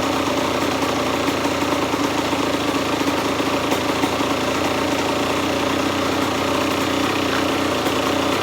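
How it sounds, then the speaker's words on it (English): A Kawasaki KX100 two-stroke dirt bike engine idles steadily, a continuous buzzing drone with rapid pulsing, close and loud. "Got it running, it's idling."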